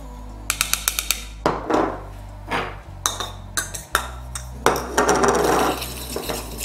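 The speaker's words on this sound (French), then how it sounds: "on mélange le bicarbonate de sodium et la maïzena" Baking soda and cornstarch stirred together in a bowl for homemade deodorant, a spoon clinking and scraping against the sides in quick uneven strokes, close and fairly loud, with a low steady hum beneath.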